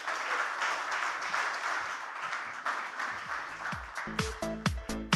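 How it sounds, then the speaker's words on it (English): An audience at a sports conclave in Goa applauds warmly, moderately loud at first, then thinning out as distinct sparse claps and a couple of tonal chimes close the clip. "They deserve a huge round of applause."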